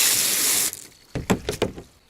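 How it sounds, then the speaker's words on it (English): A garden hose sprays water onto a large polished rock for about the first 0.7 seconds, a steady loud hiss that then cuts off, followed by a few close dripping and clattering knocks. "Get a hose and wash this off."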